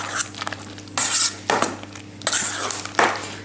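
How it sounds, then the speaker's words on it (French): Whipped chantilly cream with pear stirred in a bowl, giving several bursts of soft scraping and clinking spoon strokes against the dish in an irregular rhythm, close and moderately loud with no talking. "Alors, je mélange ma chantilly"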